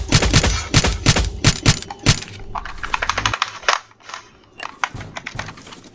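Gunfire rings out in the video game Roblox Jailbreak, with rapid bursts of sharp cracking shots, loud and close at first, then thinner, scattered pops further off.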